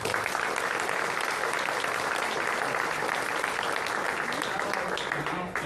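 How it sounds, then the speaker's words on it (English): An audience at a city State of the City address applauds honored guests with sustained, dense clapping from a large crowd that carries on steadily and fades slightly at the end. "Please give a round of applause for these honored guests."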